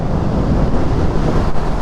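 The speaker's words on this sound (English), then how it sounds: "that wind, it's quite windy today" Loud, low wind buffets the microphone in a continuous rumbling roar, gusting unevenly, on a windy day while riding a Kawasaki Z650RS motorcycle.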